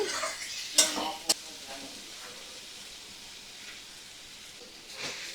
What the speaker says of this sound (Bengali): দু মিনিট ভালো করে 2 মিনিট কষিয়ে নিচ্ছি